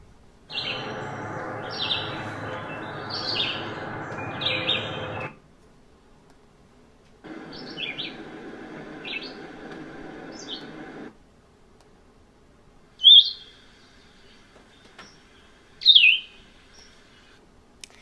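Birdsong in three bouts: two stretches of warbled phrases over a steady broadband hiss, then a few isolated clear chirps standing out against quiet background.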